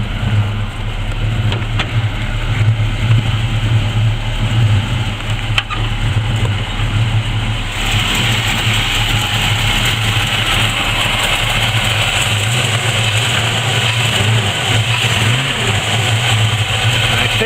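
A 1981 Chevrolet Camaro convertible engine with a suspected header gasket leak runs at a steady, loud idle with a low rumble, the tone shifting partway through as it is revved slightly.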